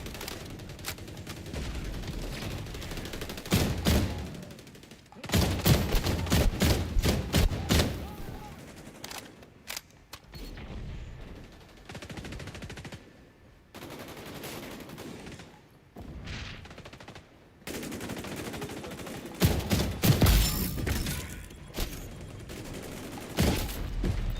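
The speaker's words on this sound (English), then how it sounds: "You can hip fire the marksman rifle a little bit." Hip-fired shots from an MK 20 SSR marksman rifle in XDefiant, loud clusters of rapid gunfire broken by short pauses, with other battlefield shots mixed in.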